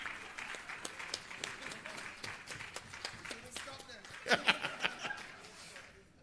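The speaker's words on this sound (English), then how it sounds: "we should clap them for that" Audience applause at a regional launch event for a Caribbean hub, scattered hand claps with some laughter and voices, fairly faint and distant.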